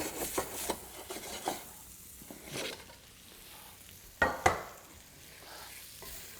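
Onions cook in a pan with a soft, continuous sizzle, broken by scraping strokes as they are stirred and by two sharper utensil knocks near the end, with no voices.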